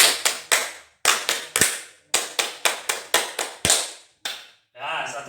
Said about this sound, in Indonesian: akan melakukan tepuk pramuka